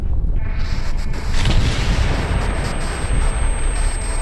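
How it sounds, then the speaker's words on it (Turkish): A cartoon bomb blast bursts out as a loud, rumbling boom, followed by a dense, crackling roar that lingers and slowly fades. "Bomba patladı"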